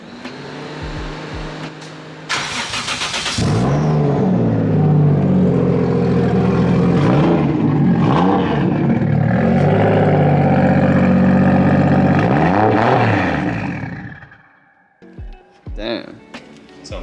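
A Toyota JZX100 engine fires up and runs loudly nearby, holding a throaty idle punctuated by several sharp revs that rise and fall, then cuts off, with people talking around it.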